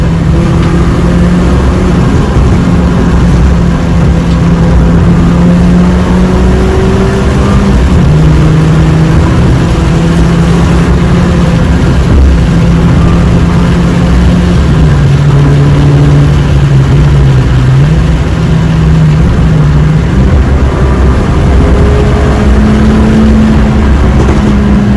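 Engine of a £2000 track car with WRC livery, fitted with polyurethane and solid bushes, heard while driving: a steady, loud droning hum whose pitch rises and dips gently throughout, with no talking.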